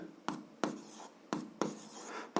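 A pen writes an algebra equation, making several short scratchy strokes in quick succession, close and faint, with no voices.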